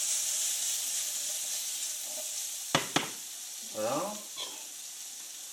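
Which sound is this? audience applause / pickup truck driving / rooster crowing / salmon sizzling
salmon sizzling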